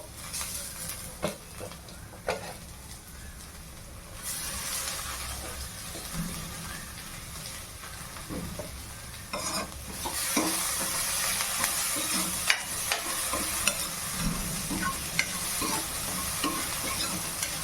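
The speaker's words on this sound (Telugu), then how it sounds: "ఇప్పుడైతే టమాటోస్ వేసేసుకుంటున్నాను." Tomatoes added to a pan of onion, capsicum and green chillies for paneer bhurji, sizzling and frying steadily with stirring scrapes, growing louder and more hissy partway through, close and clear with almost no talk.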